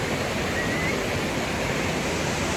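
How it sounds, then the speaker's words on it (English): A waterfall about 40 feet high in Chau Ram Park, South Carolina, heard as a constant broadband roar of rushing water, steady and fairly loud from nearby, with no talking. "This is about a 40-foot waterfall."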